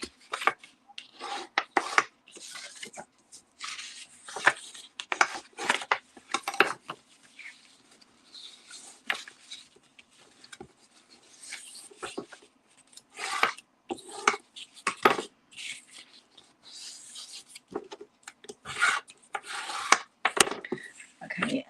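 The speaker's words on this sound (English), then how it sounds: "So I need to fold all the score lines." Scored cardstock being folded and creased along score lines for a Christmas craft, heard as close dry rubbing and scraping rasps in irregular bursts, with no talking.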